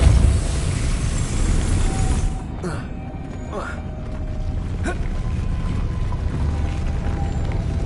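The Depulso spell in the video game Hogwarts Legacy fires several times as short, sharp bursts over a dense game-world rumble, with a voice speaking between them.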